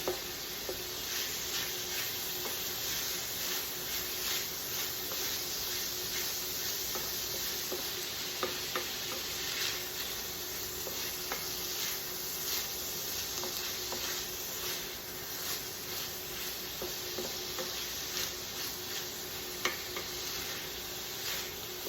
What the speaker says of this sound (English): I'm going to let these kind of cook down, break up the onions.